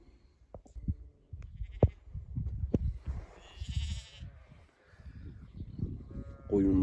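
A flock of sheep grazes on a mountain pasture in the Nurhak mountains, with scattered soft bleats and shuffling, then one louder, nearer bleat at the end and no talking.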